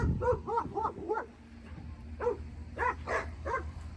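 Dogs bark and yip repeatedly in quick bursts, somewhat distant, with a pause midway before more barking.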